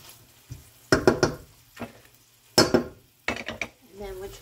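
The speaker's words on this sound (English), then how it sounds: "Just gonna stir my onions." Onions stirred in a pan on a home stove, with a spoon scraping and knocking against the pan in uneven bursts over a soft sizzle, close up and with no talking.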